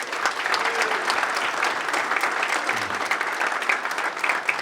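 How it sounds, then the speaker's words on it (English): Audience at a high school sports hall of fame induction ceremony applauding steadily, a dense wash of clapping from a hall crowd that holds even throughout, with a faint voice briefly underneath. "I just got to lead a nice round of applause for both of them"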